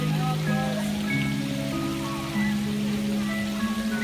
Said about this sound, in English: Waterfall in the background.